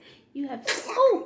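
A young girl sneezes once during closet cleanup at home, a quick sharp burst close to the mic, with a brief spoken word just before it.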